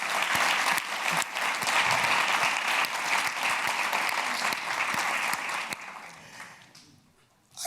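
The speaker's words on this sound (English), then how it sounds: "join me in applauding the speakers" Steady audience applause at a business forum closing address, dense clapping that holds strong, then fades away into quiet over the last couple of seconds.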